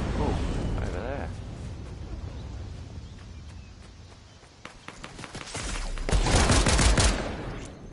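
Gunfire in the video game Fortnite, a rapid burst of close shots followed by louder explosive blasts, with a player talking over the start.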